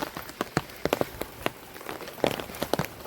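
Heavy rain falls in Jaffna, a steady wash of drumming drops with sharper splashes and knocks scattered through it, close and continuous with no talk.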